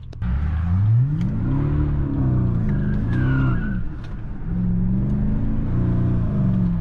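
A BMW 750i V8 engine burbles and revs in rising, falling pulses with popping, loud and close, with a short dip before rumbling up again.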